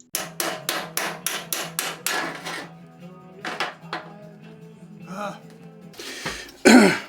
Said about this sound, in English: here I am going with a cold chisel to try and knock it loose